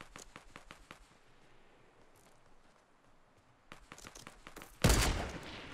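Gunfire in the Fortnite Battle Royale video game: rapid sharp shots crackle in a fast burst, then a few scattered pops, ending in a loud close blast.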